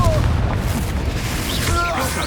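A Confringo fire spell from Hogwarts Legacy bursts with a loud, deep boom that fills the short moment, surrounded by dense battle noise and magical effects.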